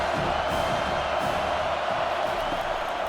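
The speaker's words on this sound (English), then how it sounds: "Decibels rising as the crowd gets behind this defense on third down." A stadium crowd at an Ohio State versus Penn State college football game roars for the defense on third down, a dense, steady wall of cheering and whooping with no break.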